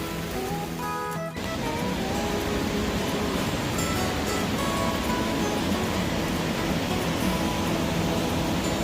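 Water flowing steadily along a flooded hiking trail in Smoky Mountain National Park, where rainwater has turned the path into a small stream; a constant, fairly loud broadband rush after a brief bump near the start.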